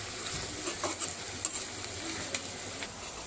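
Onions fry in hot oil on the way to browning, giving a steady close sizzle with light scraping and stirring clicks scattered throughout.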